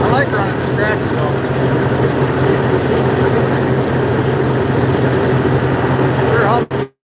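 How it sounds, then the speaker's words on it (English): A tractor mowing a field drones with a steady, loud low engine rumble from close by, holding constant throughout before cutting off abruptly at the end. "I like running this tractor though."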